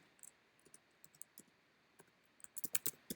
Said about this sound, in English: Let me just type it again.